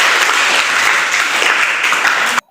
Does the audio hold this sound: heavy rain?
no